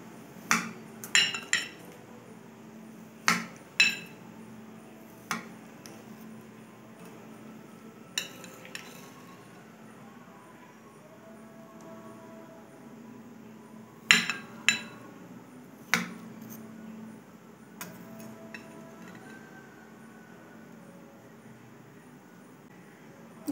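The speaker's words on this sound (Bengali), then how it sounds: "প্লেটে ঢেলে নিয়েছি, আমি একটু কেটে দেখিয়ে দিচ্ছি।" Cutlery clinks and taps against a plate while cutting into set watermelon pudding, a series of sharp, isolated metallic knocks in small clusters separated by quiet pauses, close and fairly faint.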